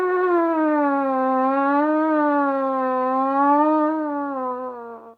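A trumpet mouthpiece buzzed alone in a siren exercise, one sustained, steady, close tone that slides gently up and down in pitch for about five seconds before tapering off.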